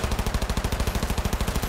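Rapid automatic gunfire in the Cyberpunk 2077 video game, a loud, steady burst of evenly spaced shots repeating quickly throughout.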